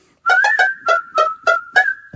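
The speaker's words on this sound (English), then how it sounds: "the Vortex Howler screams with 3 howling whistles" A shrill Nerf Vortex Howler toy football whistle howls in seven quick bursts, the first three rapid and the rest spaced evenly, loud and close.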